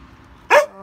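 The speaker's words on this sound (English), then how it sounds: "Very nice, sweet dog." A single short, sharp bark from a nearby dog, loud and abrupt against a quiet background.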